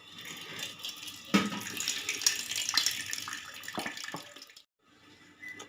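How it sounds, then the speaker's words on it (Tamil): Ground green pani puri water pours through a strainer, a close splashing trickle that swells and fades in uneven surges before dropping to near silence at the end. "இப்போ நம்ம இதை வடிகட்டியில் வடித்து எடுத்துக்கலாம்."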